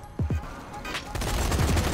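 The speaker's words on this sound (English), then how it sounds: "Now jump on that machine gun." A mounted machine gun in the zombie shooter Zombie Army fires as a dense rattle of shots, loud and continuous, with faint voices underneath.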